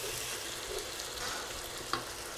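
Ginger garlic paste sizzles steadily in hot oil with fried onions for a mutton curry, a dense close frying hiss with a brief clink near the end.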